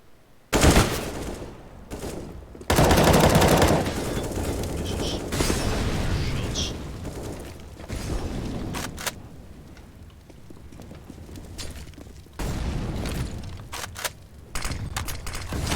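Rapid bursts of gunfire and booming grenade blasts from a Counter-Strike match on the Overpass or Vertigo map, loud and dense, with brief gaps between volleys and a commentator's voice running over the action.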